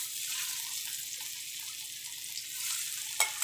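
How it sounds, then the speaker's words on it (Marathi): A chicken piece frying in two spoonfuls of oil on a hot tava griddle, giving a steady, close, bright sizzle throughout with a brief clatter near the end. "एक चिकनचा पीस असा तव्यावर ठेवणार आहे"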